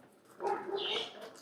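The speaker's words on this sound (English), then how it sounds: "now they're up in the backyard and they're barking at the next door neighbour's dog" A few dogs bark in a backyard at the neighbour's dog. The barks are fairly faint, blur together, and come as a short burst in the middle of the moment.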